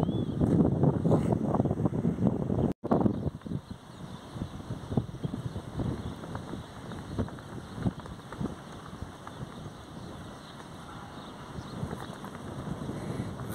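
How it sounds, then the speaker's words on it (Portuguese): Strong wind buffets a microphone outdoors on an open field, a loud, continuous low rumble with gusty surges throughout, heard alone without talk. "Vento muito forte aqui"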